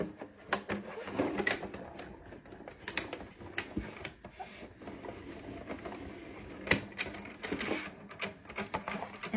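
Sizzix Big Shot Plus die-cutting machine cranked by hand as felt rolls through, giving a close series of irregular clicks, ratcheting knocks and mechanical rattles at moderate volume, with no talking.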